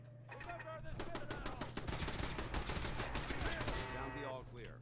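Automatic turrets fire in Fallout 4 on Survival mode, sustained rapid bursts of gunfire packed densely over about four seconds, loud and close, with a steady low hum underneath.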